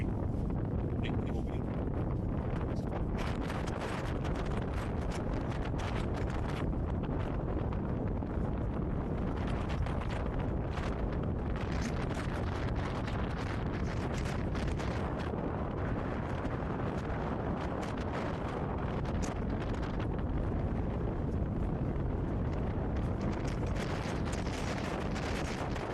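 Strong wind roars across open water by a narrow channel between islands, a loud, steady broadband rush buffeting the microphone for the whole stretch with no pauses or other clear sounds.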